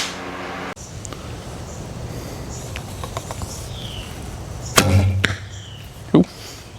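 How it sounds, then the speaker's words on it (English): Arrows loosed from a Sanlida Hermit X8 bow outdoors with no silencers fitted give sharp, loud snapping releases, two close together and then a third, over a steady outdoor background. "we're gonna go outside and see if we can fling a few arrows."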